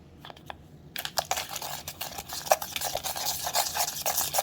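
Ingredients being mixed in a bowl for an apple pie cookie topping, a steady close run of scraping, crinkly stirring strokes that begins after a quiet second and goes on to the end.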